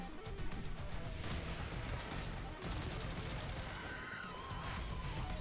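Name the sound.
shooting at target in Warframe video game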